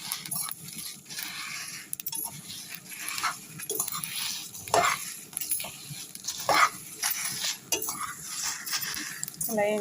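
Masala spice powder dry-roasting in a pan, stirred repeatedly with a spoon scraping the metal in uneven strokes, close by, with faint background noises.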